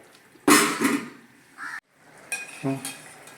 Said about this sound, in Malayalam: നമുക്കൊന്ന് മൂടി വയ്ക്കാം